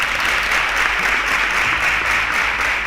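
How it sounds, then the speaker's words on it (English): A studio audience applauds a contestant on a school science quiz show, a loud, even wash of many hands clapping that fills the whole moment without speech. "Please a round of applause for him."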